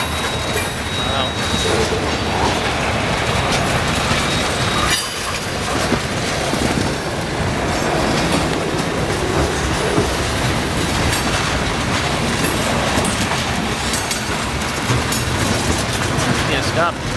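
A freight train with boxcars rolls steadily past at close range, a loud continuous rumble with rhythmic clickety-clack of wheels over rail joints and faint wheel squeal, people talking now and then over it.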